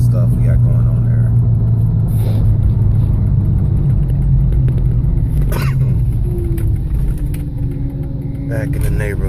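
Steady road rumble and engine drone from a car being driven through a flood-hit area in Waterloo and Cedar Falls in 2016, continuous and fairly loud throughout, with a person talking over it at times.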